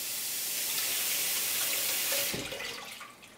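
Tap water runs into a Soma water pitcher, a steady close hiss of flowing water that shifts in tone as the pitcher fills, then tapers off.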